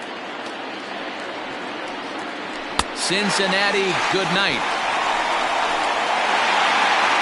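A baseball stadium crowd in MLB The Show 20 roars steadily as a large audience stands on its feet, a broad wash of cheering that swells after a sharp crack while an announcer speaks over it.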